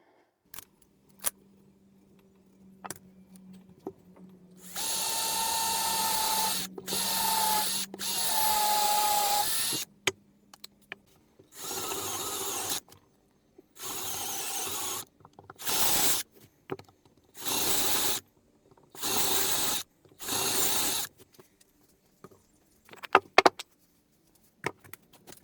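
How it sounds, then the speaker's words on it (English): A power drill bores holes and drives long screws through the ends of a hardwood frame into its bottom piece, in several loud separate bursts of whirring, close up, with quiet pauses between them. "I'll just drill in each end and put a few long screws into the bottom piece"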